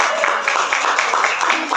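Women in an audience at a community gathering in Bekasi, Indonesia clapping hands in a brisk, loud, rhythmic burst, close and continuous for a couple of seconds.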